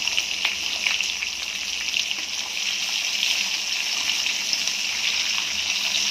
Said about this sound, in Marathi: जास्त वेळ लागत नाही याला तळायला